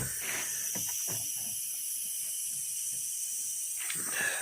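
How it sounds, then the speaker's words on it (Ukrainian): A steady high-pitched hiss of compressed air escaping from leaking connections during a pressure test for a blown head gasket runs throughout, with a few faint low knocks and rustles underneath. "З'єднання тут шиплять."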